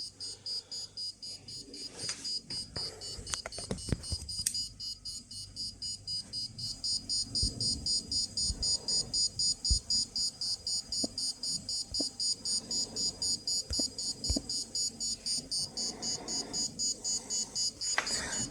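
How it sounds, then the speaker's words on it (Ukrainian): Alarm of a Geiger counter dosimeter with gamma spectrometer, a steady rapidly pulsing high-pitched electronic beeping that runs throughout, close and fairly quiet, with handling knocks and clicks underneath. "Спрацювала сирена, сигналізація, ось все."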